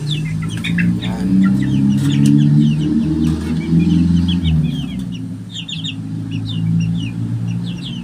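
Newly hatched young chickens cluck and chirp together in a close, continuous stream of overlapping calls, with short high peeps scattered over lower clucking and no voices.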